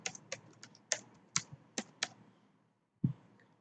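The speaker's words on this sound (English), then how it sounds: "Retype the password." A handful of separate keystrokes tap on a computer keyboard while a password is re-entered, spaced unevenly with a gap before one final firmer press; close and fairly quiet, no voices.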